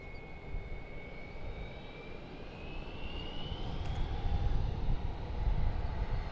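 An Airbus A319 jet departs DFW Airport, its engine roar a steady rumble at moderate distance with a rising whine that builds and swells louder toward the end.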